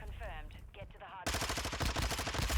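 Rapid automatic gunfire from the video game Modern Warfare 2 bursts in loud and dense after about a second of quieter game sound and talk, continuing as a sustained close stream of shots.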